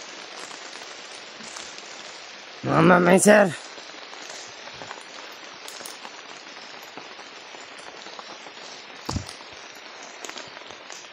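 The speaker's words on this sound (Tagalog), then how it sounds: "Lakas ng ulan" Heavy rain pours steadily on surfaces throughout, a dense continuous hiss, with someone briefly speaking over it early on and a sharp knock later.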